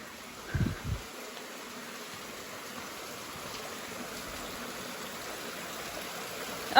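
A steady wash of flowing creek water fills the whole stretch, soft and even, with a couple of brief low thumps near the start.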